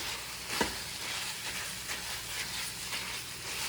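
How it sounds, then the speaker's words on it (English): Ground beef frying with onions in a pan, seasoned and stirred, giving a steady close sizzle throughout with a brief louder scrape or clatter early on. "we're going to keep cooking our meat where it doesn't show any red, where all the meat's cooked"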